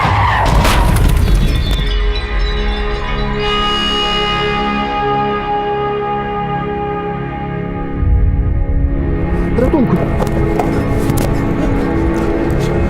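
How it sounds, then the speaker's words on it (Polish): Staged car-and-cyclist collision at a road-safety stunt show: a tire screech and skid, a sustained ringing resonant tone, then a sharp crash and clatter near the end, loud and close. "pokaz kaskaderski kontrolowanego wypadku drogowego z udziałem rowerzysty"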